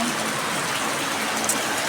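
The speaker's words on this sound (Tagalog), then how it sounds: "Lakas talaga ng ulan" Steady heavy rain pouring down, a dense continuous hiss of drops on surfaces with no breaks.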